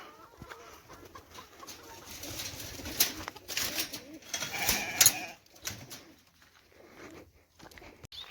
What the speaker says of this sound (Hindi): ये रहे कबूतर, ये हमारे मुर्गे।